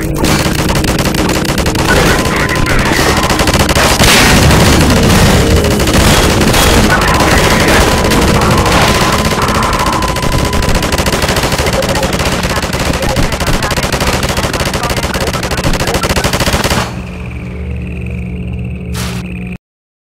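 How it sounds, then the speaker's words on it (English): A mounted machine gun fires in Half-Life 2 with dense, loud, continuous rapid bursts and overlapping gunfire for about seventeen seconds, then cuts off, leaving a fainter ringing tail. "they've left a nice mounted machine gun for you to play with"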